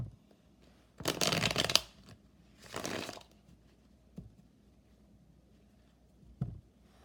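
Thelema tarot deck being shuffled: two riffling bursts of cards close by, each lasting under a second, followed by a couple of soft taps in a quiet room.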